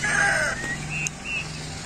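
Chickens in a chicken house on a Nueva Ecija farm resort give a quick burst of crowing and clucking, moderately close, over a low background hum.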